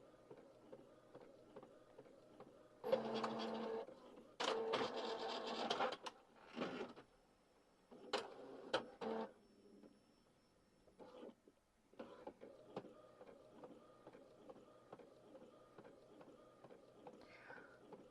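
A printer whirs and clatters through a job in bursts of mechanical noise, with pauses and a softer repetitive feed sound between.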